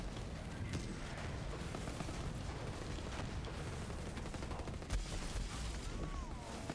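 Automatic SMG fire in the video game Borderlands 3 during a Mayhem 2 boss fight, a dense continuous barrage of gunshots and explosions mixed with game effects, loud and sustained throughout.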